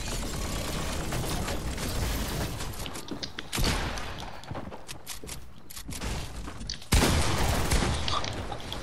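Rapid gunfire from a minigun in the Fortnite video game, a dense rattling barrage that runs almost unbroken across the clip, with a few sharper bursts standing out and no voices heard.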